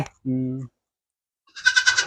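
Goat kids bleating at close range on a raised farm floor: one low, steady harmonic bleat, then a brighter, higher wavering bleat a moment later, with a short noise at the very start.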